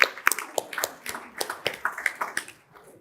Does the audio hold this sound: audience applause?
yes